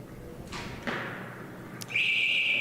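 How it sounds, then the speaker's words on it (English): Arrow striking an archery target during individual recurve competition at the 2019 Canada Winter Games: a couple of dull, close thuds, then a steady high-pitched electronic tone, with no talk. "you can hear he made a nice big thump into that target"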